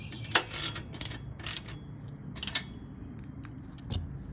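Ratcheting clicks come in short irregular bursts as bolts are tightened on a stabilizer spacer bar for a hitch-mounted rack, close and clear with no talking.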